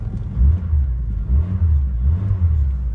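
The engine of an old car, either a 1990 VW Golf or a 1997 Saturn SC2, idles with a low, loud, close rumble that lurches and pulses unevenly as it misfires a little.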